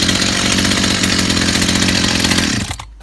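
A Honda lawn mower engine runs steadily and loudly close by, a continuous buzzing drone that cuts off abruptly near the end.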